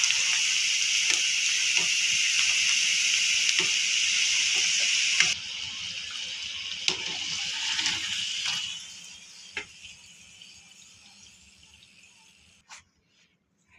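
Fresh-coconut karanji pastries frying in hot oil give a steady bright sizzle that cuts off partway, leaving softer bubbling, faint clinks and fading crackles until near silence.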